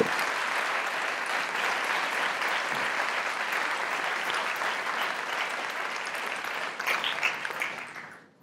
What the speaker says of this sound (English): Please join me in welcoming a round of applause for our recipients of 217 Prize.